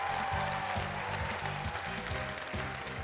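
Audience applause at a KVN comedy gala concert of the Ufa Junior League, a dense, steady patter of clapping over a pulsing low musical backing that runs throughout.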